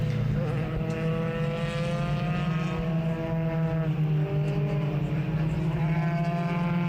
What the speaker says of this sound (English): So the race has started behind the safety car.